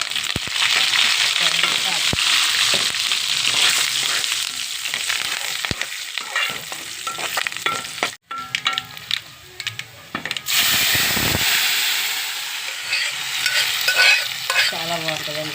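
A tempering of spices with two brinjals for dal sizzles and fries loudly and steadily in hot oil, with brief stirring clatter and a short pause partway through, and no talk.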